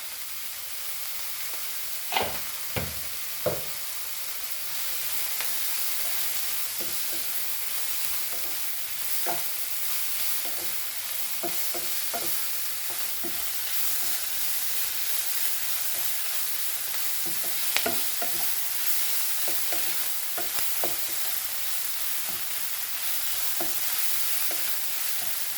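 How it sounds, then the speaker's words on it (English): Onions fry in a pan for a Goan pork sausage dish under a continuous hiss, while a spoon stirs and knocks against the pan now and then. The knocks come close together early on and again later. "So my onions are fried."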